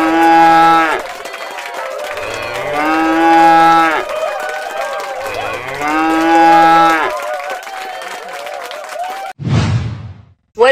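A cow moos loudly several times in long, droning bellows close to the listener, followed by a short, sharp final call.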